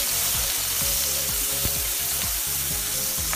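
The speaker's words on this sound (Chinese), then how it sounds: "热锅放油，倒入姜蒜辣椒" Ginger, garlic and chili frying in hot oil in a wok, a loud, dense, steady sizzle with rhythmic scraping strokes of a spatula stirring throughout, close up and without talk.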